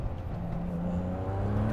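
A supercar's engine roars steadily and close as the car pulls away hard, a deep sustained drone with rising harmonic tones and no talk over it.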